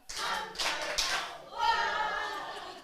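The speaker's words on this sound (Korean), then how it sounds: "박수." A small group in a Sunday school class clapping, a short burst of hand claps that swells, dips, then picks up again, moderately close, with a voice briefly mixed in.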